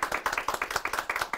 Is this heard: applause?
yes